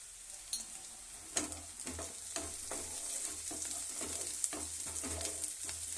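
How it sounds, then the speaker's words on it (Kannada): Tomato paste and chopped garlic fry in a pan for a cauliflower palya, a steady close sizzle with repeated stirring scrapes and clinks throughout, no talking. "ಬೆಳ್ಳುಳ್ಳಿ ಕಟ್ ಮಾಡಿರೋ ಹಾಕ್ತೀನಿ ರೀ"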